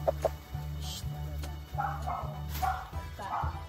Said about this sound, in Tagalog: Ito yung manok ni Day-Day.